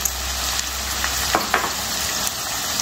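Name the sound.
whole spices frying in hot oil for veg pulao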